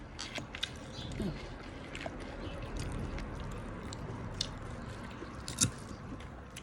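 Someone chewing and eating salad at a homemade lunch, with soft crunchy bites and wet squishing mouth sounds close to the mic, a couple of sharper crunches standing out.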